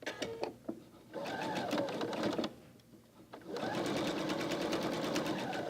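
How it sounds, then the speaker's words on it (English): A sewing machine runs in two steady bursts while stitching a quarter-inch quilt seam, close and continuous, with brief pauses and a few light clicks between. "I'm just going to sew a 1/4 inch seam along here"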